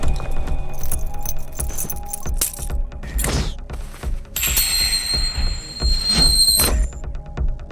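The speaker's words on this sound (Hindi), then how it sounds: "गाड़ी की चाबी।" Car keys jangle in metallic clinks amid a busy dramatic film soundtrack with high, sustained tonal squeals and bell-like tones layered over the rattling, fairly loud and without talking.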